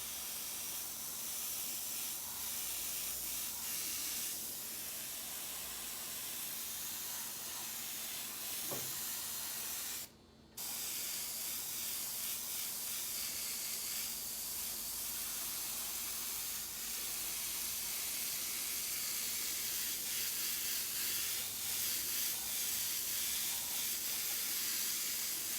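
An airbrush sprays paint with a continuous, close, steady hiss that runs almost without a break, stopping briefly just once before resuming at the same level.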